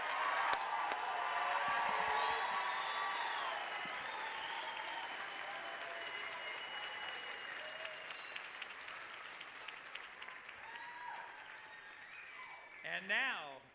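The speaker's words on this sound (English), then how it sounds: "One more big round of applause before we close." Applause and crowd noise at a university commencement ceremony for a graduating class, heard as a broad, fairly distant wash of clapping mixed with whistles and cheers that thins out over time.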